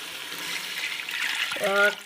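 Water pours steadily into a pot of medium-grain rice for bagara rice, about one and a half litres per kilo, a close, continuous watery hiss lasting roughly two seconds that swells slightly toward the end.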